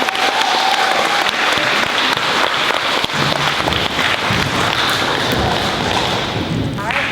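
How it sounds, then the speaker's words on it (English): A school audience at a fifth-grade recognition day claps loudly and continuously for honored students, a dense near wash of applause with some thumps, while voices talk underneath. "another round of applause for them"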